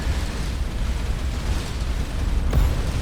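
A spaceship explodes in the space video game Starcom: Unknown Space as a dense, rumbling roar that holds steady for a few seconds, with a sharp pop near the end.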